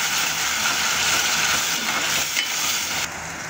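Tomato puree with chopped ginger and garlic sautéing in a pan, a steady broad sizzle close by that drops slightly near the end, with no talking.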